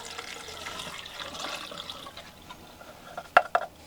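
Water drains slowly from an air conditioner's condensate drain line, a soft continuous trickle and gurgle close by, ending with a couple of sharper splashing drips near the end; no talking.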